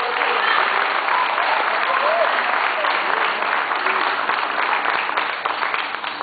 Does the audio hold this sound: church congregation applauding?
yes